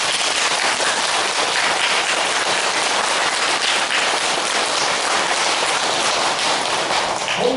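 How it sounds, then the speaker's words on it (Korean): An audience applauds at a Buddhist master's dharma talk, a dense, steady wash of clapping that holds evenly for about seven seconds with no one speaking over it. "박수 한번 주십시오."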